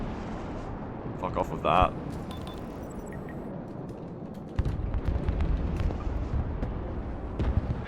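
Artillery explosions from a fire mission in the video game Broken Arrow rumble as deep, heavy booms that swell into a sustained roar midway, with players talking over the barrage.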